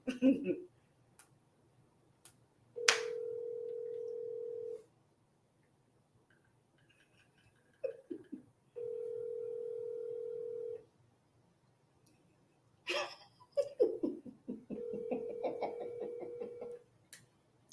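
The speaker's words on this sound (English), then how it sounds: "Call him right now and see if he answers." Repeated ringback tones of an outgoing telephone call, steady two-second rings separated by pauses, with voices talking and reacting between the rings.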